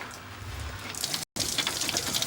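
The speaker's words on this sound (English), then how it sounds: "Can you stop the water coming out?" Water running steadily from a tap in a house, a continuous faint hiss that stops abruptly for a moment, then resumes more brightly.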